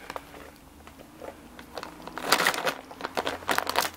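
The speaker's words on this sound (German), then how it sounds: "Ich versuche die nächste Tüte aufzumachen." A plastic bag of treats for a pet rabbit is pulled open with crinkling and crackling rustles that start sparse and grow into louder, busier bursts of crumpling near the microphone.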